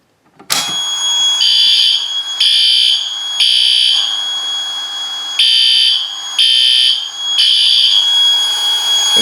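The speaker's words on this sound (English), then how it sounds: "the horns are not in sync" Loud fire alarm horns from two different alarm types on one sync circuit sound in a repeating pattern of harsh blasts with short gaps, the tones overlapping slightly out of step.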